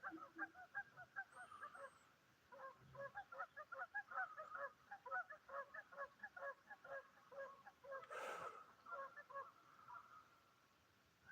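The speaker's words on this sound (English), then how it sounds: "Hear them geese." Geese on Englebright Lake in Northern California honk repeatedly in a busy, overlapping chorus, steady and fairly close throughout, with a brief louder burst of noise near the end.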